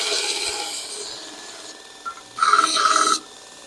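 Harbor Freight Hercules bench-mounted belt grinder on a tool swing stand grinding, a loud abrasive rasp swelling up for under a second after quieter motor whir, then dropping back to the running hum.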